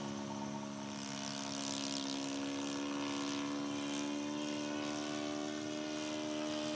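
A Top Flite Bonanza V35 radio-controlled model airplane's engine drones steadily with a high, buzzing hum that holds throughout, at moderate distance.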